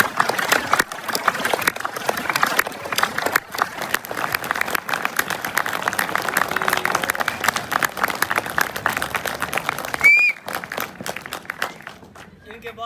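An audience at a college stage drama performance claps and cheers for an actor, dense sustained applause with a few whistles and voices mixed in, fading toward the end.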